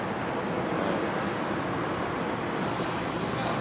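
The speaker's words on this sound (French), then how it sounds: "On va découvrir le métro londonien qui est extrêmement cher" A London Underground metro train rumbles loudly and steadily, with a continuous roar of wheels on track and thin high squeals from the rails throughout, no voices.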